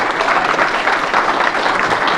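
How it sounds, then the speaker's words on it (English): A crowd applauds at a Champlain High School reunion in 1995, a dense, steady wash of clapping that holds at an even, loud level throughout. "we should give a round of applause."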